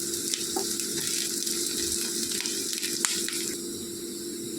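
Curry leaves crackle and sizzle in hot oil while cooking an egg mango curry, a steady close frying hiss with a few sharp pops, no voices.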